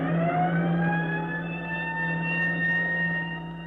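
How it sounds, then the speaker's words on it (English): Firehouse roof siren sounding a fire alarm for volunteer firemen: a sustained wailing tone with steady harmonics, slowly gliding in pitch and fading slightly toward the end, heard alone. "As the siren on the roof of the firehouse roars its warning"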